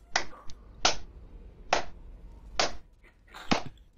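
Five or six sharp, separate hand claps spaced roughly a second apart, close and bright, with only faint background between them during a Portal 2 gaming session.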